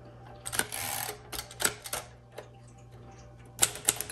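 Typing on a 1957 Royal Quiet Deluxe manual typewriter in tan crinkle finish with tombstone keys produces sharp, close key strikes in uneven bursts over a faint steady hum, with no talking.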